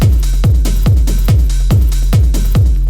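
A hard techno breakbeat drum loop with booming kick, cracking snares and hi-hats, pounding in a fast repeating pattern of about six hits per bar, loud and dense with no voices.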